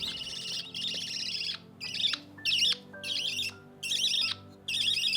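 A budgie chirps and squawks in repeated bright bursts separated by short pauses, close and fairly clear, with no talking.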